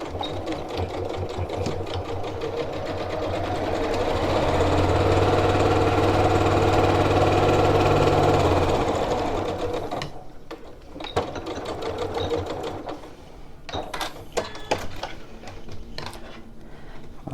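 A sewing machine stitches along a reversible tote bag, a loud steady whirring run that swells and holds for about ten seconds, then gives way to short bursts and clicks as the fabric is adjusted.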